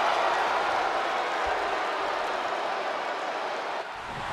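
A wrestling arena crowd at a WWE match applauds, a broad, continuous wash of distant clapping and crowd noise that stays even before easing slightly near the end.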